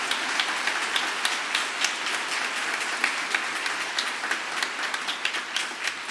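A church congregation applauds together during a Portuguese-language sermon, a dense, steady wash of clapping from many hands filling the room, with individual claps popping through, no voices over it.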